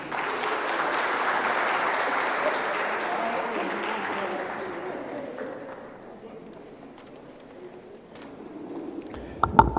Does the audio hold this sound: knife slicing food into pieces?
no